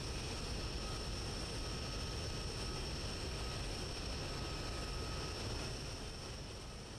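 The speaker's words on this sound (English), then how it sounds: "The plane's still a little loud?" A steady, broad airplane roar drones overhead throughout, loud and unbroken with a faint high whine riding on top.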